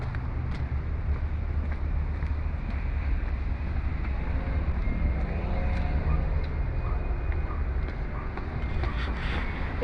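Wind blows outdoors under a papaya tree in a steady, broadband rush, constant and fairly loud throughout like gusts buffeting a microphone, with no voices.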